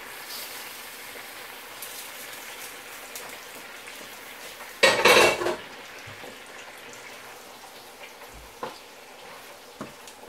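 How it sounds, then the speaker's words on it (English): Tomatoes cut side down hitting a hot pan still coated with steak juices, a short loud burst of sizzling that fades back into a quiet steady frying hiss, with a couple of small clicks afterward. "They can go in the pan, the steak was cooked in."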